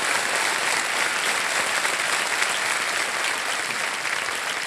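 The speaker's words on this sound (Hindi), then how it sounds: "ताली बज जाए इनके लिए जोरदार।" A studio audience on the quiz show Kaun Banega Crorepati applauds loudly and steadily, a dense wash of clapping that holds at even strength throughout with no voices over it.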